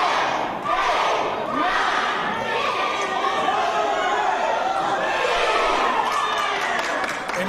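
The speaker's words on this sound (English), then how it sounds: "And you can hear this crowd." Wrestling crowd at a steel cage match, a dense continuous roar of cheering and shouting that stays loud throughout, with no break.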